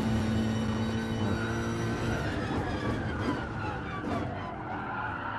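Race cars roar in Gran Turismo Sport while overtaking a Peugeot RCZ GT Line on a straight: a loud, dense engine drone with tire skidding that runs throughout.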